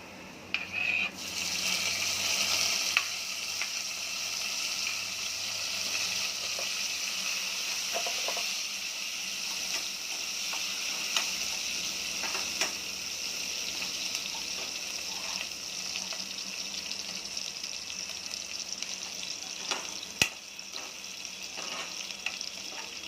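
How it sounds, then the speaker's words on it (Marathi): Chopped garlic and green chilies sizzle and crackle steadily in hot oil in a pan, with occasional stirring scrapes throughout, close and continuous with no talking. "लसूण असं सोनेरी कलरचं झालं की मग मिरची टाकायची"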